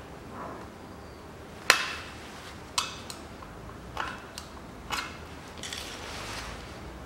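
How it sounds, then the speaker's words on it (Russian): A control arm silent block bushing on a Nissan Qashqai 2.0 front arm is knocked out with a few sharp metallic hammer blows spaced about a second apart, close and alone over quiet background. "Беру, выбиваю сайлентблок."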